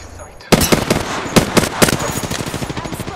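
Video game gunfire erupts after a brief quiet moment: rapid, loud automatic bursts of shots in a fast stuttering rhythm, close and dominant.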